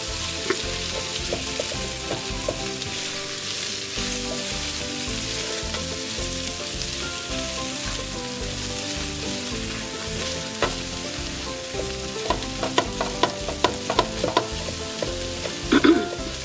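Diced potatoes frying and being stirred in a pan over medium-low heat for coriander potatoes, a steady close sizzle with scraping and clattering stir strokes that grow busier toward the end.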